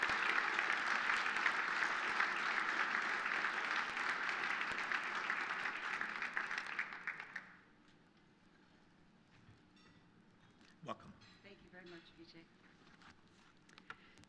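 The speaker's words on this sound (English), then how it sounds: "Please give her a nice round of applause." Applause from an audience at a corporate event at the New York Public Library, welcoming a UNICEF executive to the stage. A dense, steady wash of clapping lasts about seven seconds, then stops into a quiet room with soft movement and a few small knocks.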